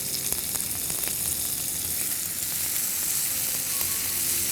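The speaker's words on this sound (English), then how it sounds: "we just have to cook the tomatoes till they go slightly soft" Onion and tomatoes with salt frying in a pan, a steady close sizzle with faint crackles running throughout, no voices.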